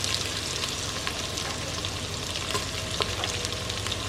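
Onions and green chillies frying in an Instant Pot for veg biryani, a steady soft sizzle with faint occasional stirring scrapes, close and quiet, no voices.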